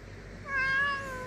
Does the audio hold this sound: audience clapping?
no